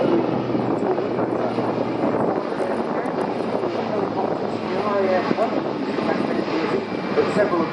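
An Airbus A400M Atlas military transport aircraft flies slowly past at an air show, its turboprop engines giving a broad, steady roar throughout, while a commentator talks over it.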